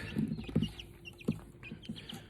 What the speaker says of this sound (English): There's a chicken here somewhere. I can hear it.